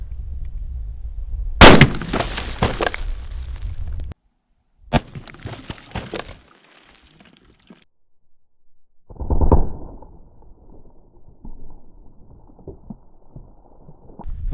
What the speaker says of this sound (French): on va aller se donner une représentation un petit peu plus visuelle de comment ces munitions se comportent dans des bidons d'eau